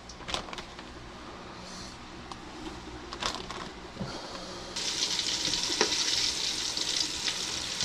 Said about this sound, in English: Let's get some chunks of gar in the fryer.